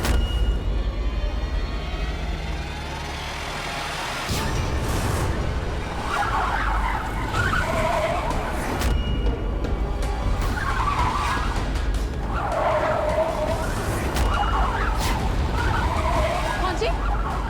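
A car driven fast and recklessly on a road, with a continuous engine roar broken by repeated tire squeals and skids, while a voice pleads over the noise.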